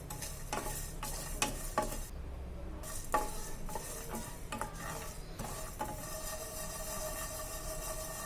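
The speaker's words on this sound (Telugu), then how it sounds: "కొంచెం అల్లం ముక్కలు, కొన్ని వెల్లుల్లి రెబ్బలను కూడా వేసుకొని ఫ్రై చేసుకోవాలి" Ginger pieces and garlic cloves fry in a pan for a brinjal and cashew curry, giving a steady low sizzle with repeated scraping stir strokes throughout, close and moderately loud.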